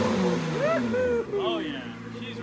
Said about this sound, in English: I mean, exhaust sounds good now.